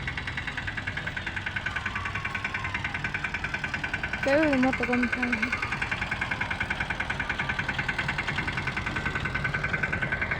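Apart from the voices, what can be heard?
tractor engine running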